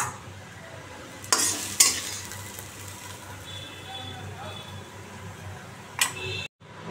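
Dried red chillies crackle and sizzle softly in hot oil as a low, continuous hiss, with a few sharp clinks of a utensil against the pan.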